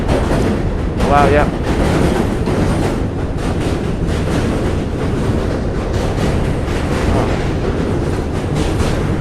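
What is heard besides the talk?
loud trains passing near a bridge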